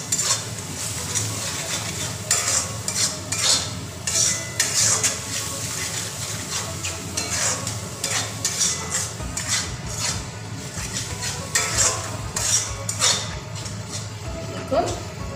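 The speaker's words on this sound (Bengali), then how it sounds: "আবারও ভালো করে একটু ভেজে নিব এই মশলাগুলোকে।" Spices sizzle in a pan with fried onion and tomato paste for a chital fish curry, with repeated stirring scrapes and a steady low crackle under a talking voice.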